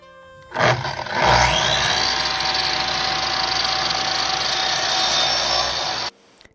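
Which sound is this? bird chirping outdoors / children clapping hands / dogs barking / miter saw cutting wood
miter saw cutting wood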